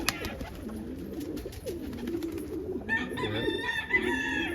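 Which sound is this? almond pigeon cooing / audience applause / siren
almond pigeon cooing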